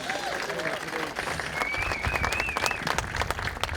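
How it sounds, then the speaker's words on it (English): Moderate applause from an outdoor community crowd at a celebration day, with scattered voices and a whistle mixed in over a few seconds. "Give yourselves a round of applause."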